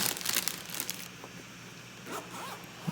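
Crinkling plastic wrapping around a new Canon EOS Rebel T7i DSLR camera rustles and tears in short bursts, close and fairly quiet, with a few softer crackles after a pause.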